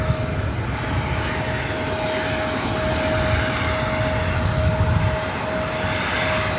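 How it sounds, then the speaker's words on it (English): A SkyWest Embraer E175 jet produces a steady, loud engine drone with a constant whining tone over rumbling noise, continuous and unaccompanied by talk. "SkyWest Flight 4087, heading to San Diego, California. It's an E175."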